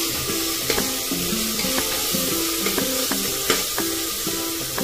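Chopped onion sizzles and fries in ghee in a pan for masala rice, a steady close crackle broken by repeated scraping stirs of a spoon against the pan.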